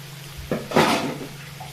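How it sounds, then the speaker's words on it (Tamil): Water splashes as it is poured into crab gravy cooking in a pan with pepper, coconut, sesame oil, garlic and onion, a close, short wet pour lasting under a second. "அதனால கொஞ்சம் தண்ணி ஊற்றுறேன்"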